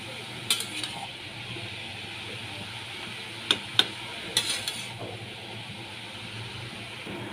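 Turmeric is stirred into a pan of hilsa fish head with chal kumra, and a spoon scrapes and clinks against the pan in several sharp taps over a soft sizzle.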